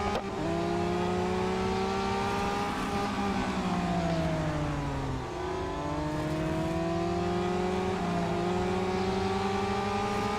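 A race car engine in Real Racing 3 roars steadily for the full stretch, its pitch climbing and dropping through repeated gear shifts, loud and close with no talking.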